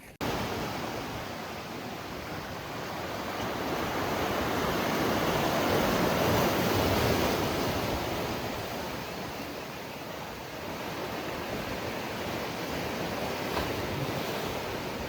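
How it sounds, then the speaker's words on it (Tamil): Calm sea waves around a rock in the middle of the water at Puerto Vallarta, a soft continuous wash that swells gently toward the middle and eases again, with light wind. "அமைதியான கடல், கடலுக்கு நடுவில் ஒரு பாறை"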